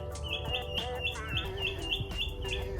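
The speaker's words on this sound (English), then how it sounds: "That's a loud bird." Loud bird chirping nearby in a quick repeated rhythm of bright, sharp tweets over a steady background hum.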